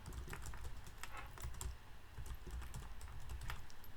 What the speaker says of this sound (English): I'll type the name.